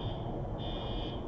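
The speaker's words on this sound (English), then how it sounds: "I believe that's a fire alarm." A fire alarm sounds a faint, continuous high-pitched electronic tone with a brief dip partway through, heard indoors from some distance with no talking.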